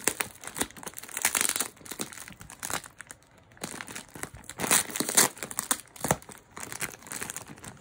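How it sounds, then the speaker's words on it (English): Packing tape torn and crinkled off a jewelry parcel during an unboxing, in several loud, ripping bursts with crackly pauses between them, close and without talk. "I'm going to stop gabbing and rip this tape off. So it's going to be a little noisy."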